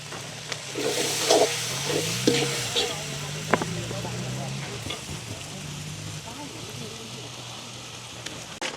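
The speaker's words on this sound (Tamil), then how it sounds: "நாங்கள் பொறிச்சு வச்சுருக்கிற இறைச்சியை போடுவோம் அப்படியே நல்ல வடிவாக பிரட்டி விடுவோம்" Chicken curry with fried meat pieces, garlic, ginger and chilli sauce sizzles steadily in a pan while it is stirred, with scraping knocks at intervals and a voice talking over the cooking.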